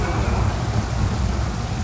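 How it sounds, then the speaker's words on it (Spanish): Heavy rolling thunder booms through steady pouring rain during a battle in the video game Total War Pharaoh, a continuous loud wash of storm noise with low rumbling underneath. "Madre mía, el truenazo."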